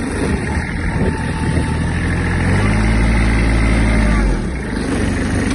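Kubota GB-15 Japanese mini tractor engine running steadily in low gear, a loud, close diesel chug with a firm low rumble that swells slightly midway before settling back.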